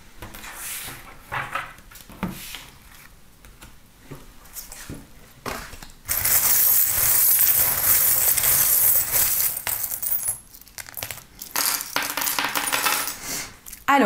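Small divination charms being shaken and cast during a reading, giving close jingling clinks and rattling that swell into a dense metallic cascade before scattering down.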